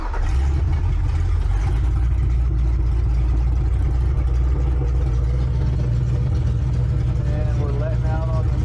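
A Ford Ranger pickup with a swapped 302 V8 engine runs steadily nearby, a deep loud rumble holding for several seconds, with a brief rising note near the end.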